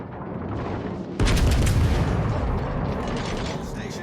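A battleship broadside salvo in World of Warships fires, the German Brandenburg, one loud sudden boom followed by a long rumbling decay, heard over a steady background hum.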